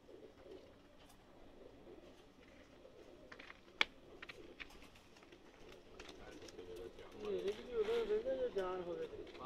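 Pakistani pigeons coo in low, rolling calls that grow louder and closer toward the end, over a muffled background with a few clicks and taps.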